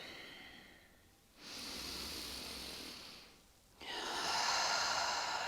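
Slow, deep breaths during yoga practice on a mat: a long airy inhale followed by a softer exhale, then another louder inhale, close and breathy with calm pauses between, no talking.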